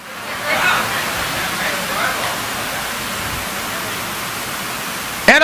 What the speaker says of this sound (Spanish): mira, está lloviendo mucho